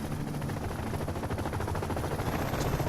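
Sustained rapid gunfire from the Renegade X video game, a dense continuous rattle of machine-gun bursts with no pauses, loud and close.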